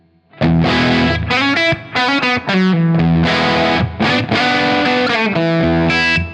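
A loud, distorted electric guitar, a Les Paul on its bridge pickup at full volume through overdrive, playing chords and riffs with a crunchy tone, sustained notes separated by brief stops, no voices.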